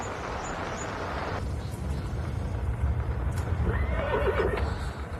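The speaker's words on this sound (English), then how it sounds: "A horse! You didn't tell me about a horse." A horse whinnies loudly, a long wavering neigh rising over hoofbeats and a low outdoor rumble.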